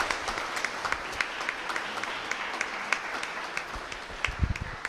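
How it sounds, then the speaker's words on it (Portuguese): A church congregation applauds during a communion service, steady fairly soft clapping from a moderate-sized crowd, with a few louder individual claps standing out near the end. "Dê uma salva de palmas pela vida da irmã Jane."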